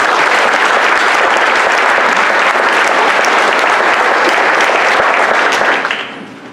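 Sustained, loud applause from an audience at a ceremony honouring Filipino World War II veterans, steady dense clapping that fades toward the end.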